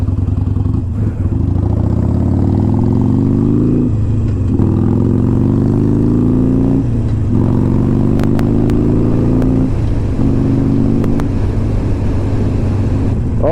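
Riding an Iron 883 motorcycle through New Jersey traffic, the engine drones loudly and steadily, its pitch climbing through several gear changes with brief dips between shifts, under constant wind rush.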